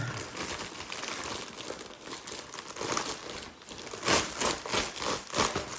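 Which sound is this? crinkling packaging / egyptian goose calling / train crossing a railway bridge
crinkling packaging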